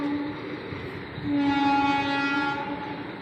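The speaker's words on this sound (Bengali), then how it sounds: "ট্রেনের আওয়াজে বোঝা গেল যে ট্রেন গেল।" A passing goods train at night near a rail gate by Sagardighi station sounds a long, steady horn over its low rumble, loud and sustained with no talk.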